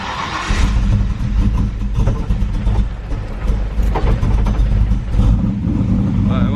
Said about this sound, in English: what I'm gonna do is crank the car up, let it run for a second